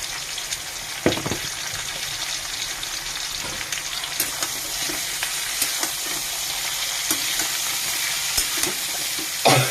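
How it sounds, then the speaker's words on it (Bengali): Cauliflower, potatoes and beans frying with cumin, chili powder and salt, stirred in the pan: a steady close sizzle with repeated scraping clacks of the spoon throughout. "দিয়ে একটু ভালো করে নাড়াচাড়া দিয়ে দিচ্ছি"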